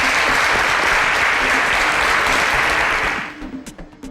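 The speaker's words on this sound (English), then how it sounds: "A round of applause for our chef," Loud, dense clapping from a studio audience on a quiz show greets a chef contestant, sustained for about three seconds before thinning out into a few scattered final claps.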